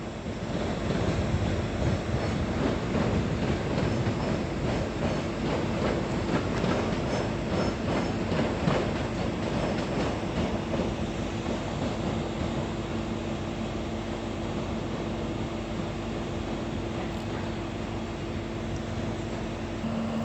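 Train at Edinburgh Waverley station bound for Helensburgh via Glasgow Queen Street, a steady rumbling roar with faint clatter and a sustained whine, loud and continuous throughout, with wind buffeting and no voices.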